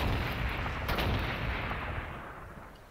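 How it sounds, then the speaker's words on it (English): Artillery fire in the Warhammer 40k Gladius strategy game, with a heavy, rumbling volley of blasts that peaks early and then rolls away into a long, fading boom. "Artillery, yeah, let's hit the city"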